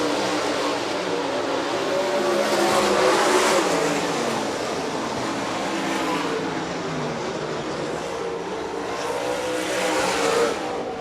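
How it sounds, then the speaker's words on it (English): MSTS sprint cars race around Rapid Speedway during a heat, a loud continuous engine roar swelling and fading as the cars pass, with no voices. "Caleb Johnson wins heat race number 3 for the MSTS Sprint Cars"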